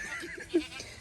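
A goat on a farm lets out one short bleat at middle distance, standing out briefly over a quiet, faintly noisy outdoor background.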